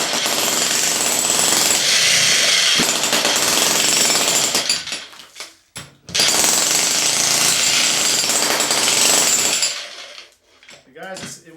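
A Sky jackhammer pounds a concrete slab in two long, loud bursts of rapid chattering impacts separated by a short pause, followed by a brief trailing rattle as it stops.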